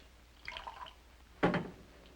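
Water is poured into a drinking glass in two short bursts, a brief trickle and then a fuller splash, faint and close, with no talking over it.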